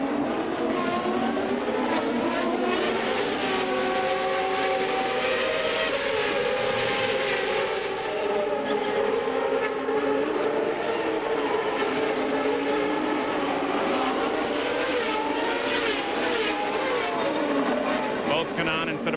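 CART Indy race cars at the Honda Indy 300 in Australia scream past in a continuous loud whine of high-revving engines, pitch rising and falling through gear changes while a commentator talks over them.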